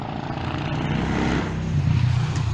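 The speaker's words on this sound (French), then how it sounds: "Oh la belle petite moto qui passe" A small motorcycle passes by a garden, its engine a steady droning buzz that rises slightly in the second half as it goes by, moderately loud and heard alone without talking.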